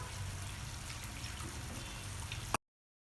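Soaked tamarind squeezed and worked by hand in water, a steady close wet trickle and slosh for sambar in a home kitchen, ending abruptly.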